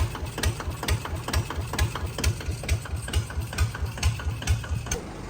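A single-cylinder 155 engine idles up close through a loud racing exhaust pipe, thumping in a fast, even, throaty beat that never lets up.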